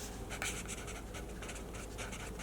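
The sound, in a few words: writing something down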